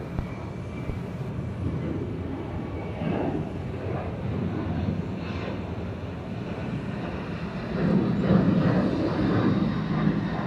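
A Delta 737-900 takes off from runway 26 left at Atlanta, a distant, steady jet roar that swells louder toward the end, with no voices.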